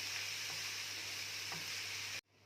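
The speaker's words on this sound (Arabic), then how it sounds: "فضلت اشوح فيها كده حبايبي لغايه ما اخدت لون واحد" Half a kilo of meat stir-fried in a pan until evenly browned, giving a loud, steady sizzle that runs on without a break, then cuts off abruptly near the end.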